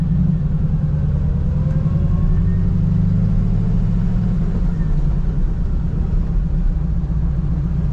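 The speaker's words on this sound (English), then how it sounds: "Got our 72 Chevelle out on a test drive right now." A 1972 Chevrolet Chevelle with fresh motor work is out on a test drive, its engine giving off a steady, loud, low rumble that continues without a break.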